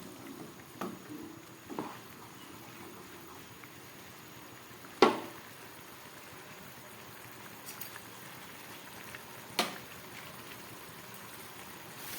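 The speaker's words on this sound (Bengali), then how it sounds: "ঝোলটা একদম ফুটে উঠেছে।" Paneer curry gravy simmers in a pan, a soft low bubbling that runs steadily throughout, with a few faint clicks and knocks rising briefly above it.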